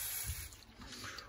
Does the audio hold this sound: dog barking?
no